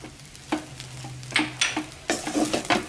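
Chicken fried rice being stirred and tossed in a pan, a spatula scraping and clacking in repeated bursts over a steady low sizzle, close and moderately loud, with no talking.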